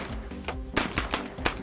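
Shotguns fire at clay targets in a Crazy Quail shooting game, a quick volley of several sharp reports over a steady outdoor background.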